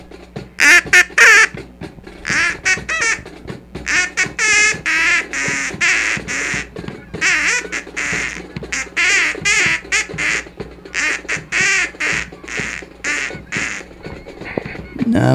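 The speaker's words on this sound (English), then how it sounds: "a regular duck call goes something like this" A handheld duck call blown outdoors, loud and close, in rapid bursts of nasal quacks and raspy chuckles, with uneven rhythm and short pauses between runs.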